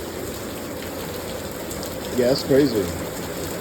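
Heavy rain pours down in South Korea, a steady, dense hiss of falling water that persists throughout, with a person briefly speaking partway through.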